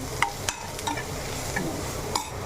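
Turmeric roasting in a pan for a bitter gourd dish, heard as a steady sizzle with a few sharp scraping knocks of a spoon stirring against the pan, close and alone.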